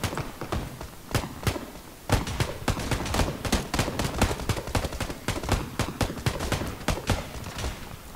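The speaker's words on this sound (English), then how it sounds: "I just picked up a fucking Tommy gun and it defaults to single shot." A Tommy gun fires in a video game in single-shot mode, giving a dense run of sharp, loud shots at an uneven rapid pace, with no speech in the clip.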